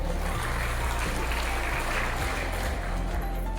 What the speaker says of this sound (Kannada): ಜ್ಞಾನ ವಿಕಾಸದ ಚಪ್ಪಾಳೆಯೊಂದಿಗೆ ಸ್ವಾಗತಿಸಬೇಕಾಗಿ ವಿನಂತಿಸ್ತಾ ಇದ್ದೇವೆ